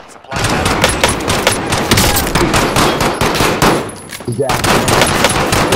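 Rapid, continuous automatic gunfire from the video game Call of Duty rattles loudly for most of the stretch with one brief lull, while players talk over the shooting.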